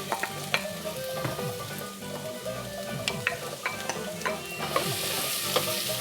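Onions sizzling in a hot frying pan while being stirred, a steady crackling fry punctuated by scraping utensil strokes and small pops, close and alone without talk.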